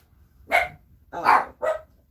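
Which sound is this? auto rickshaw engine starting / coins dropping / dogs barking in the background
dogs barking in the background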